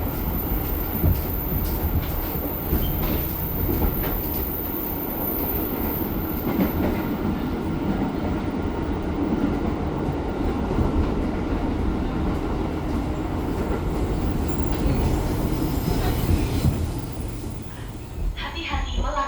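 Jakarta–Cilegon local commuter train running, with a steady loud rumble of wheels and carriage throughout, a faint clickety-clack, and a voice speaking over it from inside.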